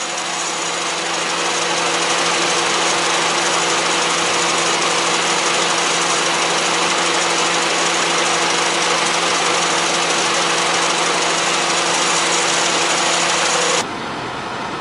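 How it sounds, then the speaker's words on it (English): A car engine idles steadily and loudly during an AC refrigerant refill, giving a constant hum with a faint knock, until it abruptly shuts off near the end, leaving near-silence. "Now I'm going to turn off the engine of the car."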